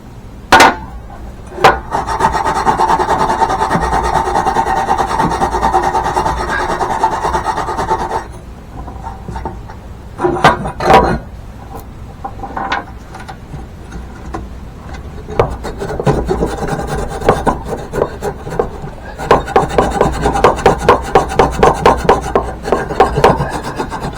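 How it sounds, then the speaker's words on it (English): A wire wheel scours a metal part from a Husqvarna tractor's Kohler engine in long, loud, steady grinding passes, broken by short pauses and sharp clanks as the piece is repositioned, with no talking. "So I'm going to go clean this one up on the wire wheel"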